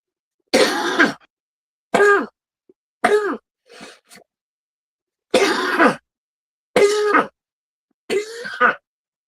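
A series of harsh, raspy coughs and throat clearing, six or seven bursts separated by short silences, close and loud.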